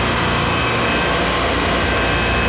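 A supermarket rack refrigeration compressor runs steadily after a restart, a loud constant mechanical drone with a tonal hum and no breaks.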